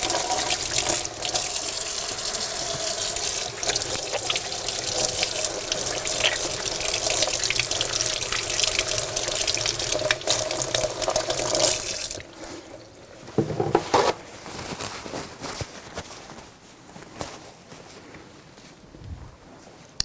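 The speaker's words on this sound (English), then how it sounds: "so I'm going to wash my hands really good." A kitchen tap runs steadily while hands are washed after handling raw chicken, a loud, close stream of water that stops partway through, followed by scattered drips, splashes and small handling noises.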